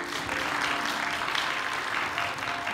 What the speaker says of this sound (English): Can you give the Lord a cheer?